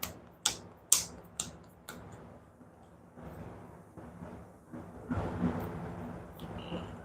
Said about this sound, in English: let me shuffle my discard pile